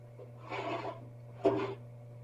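Body filler being sanded by hand on a part from a 1974 Honda CB350 motorcycle: two short, soft rasping strokes separated by a pause, quiet and close, with no talking.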